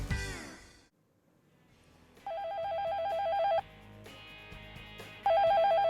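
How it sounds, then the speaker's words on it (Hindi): A telephone rings in a TV shopping studio in two loud electronic trilling bursts, separated by a brief pause, after a short fading tone at the start. "फोन तो अलाउड नहीं है स्टूडियो में, फिर फोन कहाँ है?"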